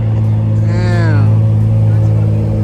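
Mark 4 and Mark 5 cars pull out of an Euro, exotic and JDM car meet, with a loud steady engine drone and one short rising rev.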